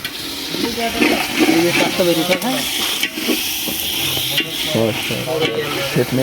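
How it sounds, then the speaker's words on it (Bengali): Khichuri stirred in a large pot near the end of cooking, with steady scraping and sizzling under continuous nearby chatter from several people. "খিচুড়ি প্রায় শেষ পর্যায়ে তো এখন লাড়াচাড়া দিতেছে যাতে নিচে না লাগিয়া যায়"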